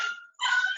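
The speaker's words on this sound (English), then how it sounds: "Oh, puppies." Puppies whimper and yip at close range in two brief high-pitched whines separated by a short pause, with no talking.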